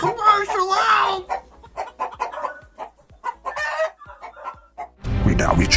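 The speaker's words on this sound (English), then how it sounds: "The chickens! The chickens!" Farmyard chickens cluck in quick, uneven bursts after a rooster's loud crow, and a voice shouts over the birds before a sudden burst of noise at the end.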